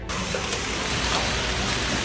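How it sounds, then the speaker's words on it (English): Heavy rain pours steadily during a hail storm in Germany, a dense, continuous roar of drops striking surfaces with no let-up across the short stretch. "Heavy rain prevents people from going out."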